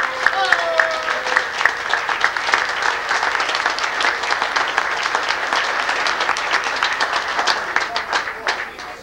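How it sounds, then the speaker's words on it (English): A 1990 audience bursts into sustained, loud applause with many crisp overlapping claps forming a dense, even roar that holds steady throughout. "we should give him really a great round of applause"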